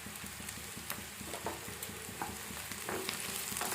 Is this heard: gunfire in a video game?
no